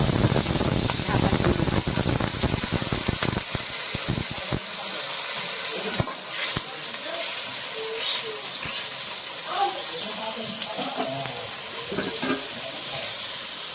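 A little water is poured into pumpkin pieces cooking in a pan for a Bengali pumpkin dhoka dish, with a loud gushing sizzle at first that settles into softer bubbling and hissing.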